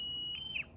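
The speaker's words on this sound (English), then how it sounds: "only the lead box will go into alarm" A lead box alarm gives off a steady, piercing high electronic tone that swells briefly and then cuts off, heard alone in under a second.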